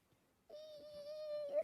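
A voice imitates a creaking door after a brief silence: one faint, drawn-out, steady squeaky whine that lasts about a second.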